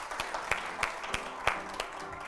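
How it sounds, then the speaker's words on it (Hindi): An audience claps during a Hindi talk show segment, a soft continuous patter of applause with a few sharper individual claps standing out at regular intervals, fairly distant. "इसके लिए तो मतलब ये तालियों के हकदार हैं भाई"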